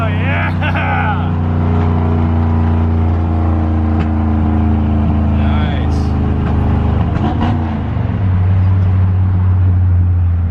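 A pickup truck's engine roars loud and close during a downshift, revs swelling and falling under a constant heavy drone, with a voice briefly audible over the engine.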